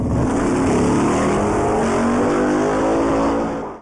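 A 1967 Plymouth Barracuda dragster engine revs hard and loud, a dense continuous roar with rising pitch that holds for several seconds, then cuts off abruptly at the end, with no voices over it.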